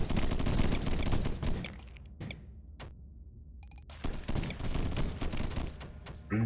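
Rapid gunfire in a swarm-survival video game, dense bursts of bangs that break off into a few isolated shots and then resume in a loud, fast barrage.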